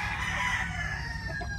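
Several sweater bulik hens clucking and a rooster crowing close by over steady barnyard background noise.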